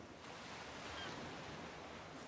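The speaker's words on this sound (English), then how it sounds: "That ocean seems really loud." Steady, loud surf from ocean waves in the video game Ark, a continuous broadband wash with no distinct breaks, filling the whole stretch without speech.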